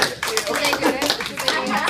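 Hands clap in a lively burst from a crowd, overlapping with excited voices talking and cheering.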